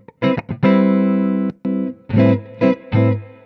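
Clean electric guitar tone through a Fender-style amp with effects, a series of plucked notes and chords ringing in short phrases with brief gaps, loud and close, without talk.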